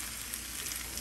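Hash browns fry slowly in a pan, a faint, even hiss of gentle sizzling with no distinct pops and no speech.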